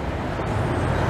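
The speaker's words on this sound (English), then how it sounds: "Oh man, sexy, sexy Ferrari." A Ferrari sports car cruising the streets of Montreal during Grand Prix weekend, heard as a steady, fairly loud roar of engine and road noise amid general traffic for about a second.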